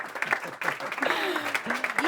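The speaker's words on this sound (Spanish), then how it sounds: "un aplauso para los dos" An audience at a business talk applauds two guests on stage. Lively clapping surges in bursts while a presenter's voice carries over it.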